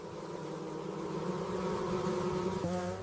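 A dense swarm of bees buzzes steadily and loudly around a giant hornet, a continuous close droning hum that shifts pitch slightly near the end.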